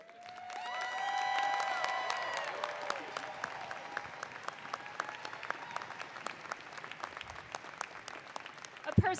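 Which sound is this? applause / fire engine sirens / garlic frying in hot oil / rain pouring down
applause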